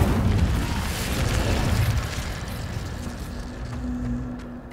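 The Incendio fire spell is cast in the video game Hogwarts Legacy: a heavy booming whoosh of flame bursts out and rumbles on, slowly fading, with no voices over it.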